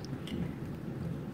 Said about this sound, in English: It is raining so hard outside. Thunder, lightning.